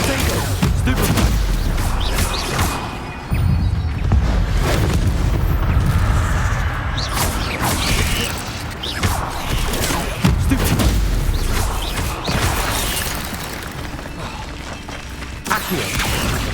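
Spell impacts and explosions in the Hogwarts Legacy video game: a loud, continuous barrage of booms, crashes and magical blasts, with repeated heavy hits throughout.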